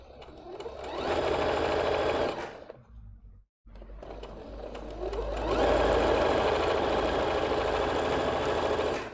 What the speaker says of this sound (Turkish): Evet, iki omuzu diktim.